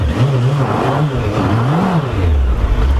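A Suzuki GSF1200S Bandit motorcycle engine revs and settles repeatedly at low speed, a loud close rumble rising and falling in pitch.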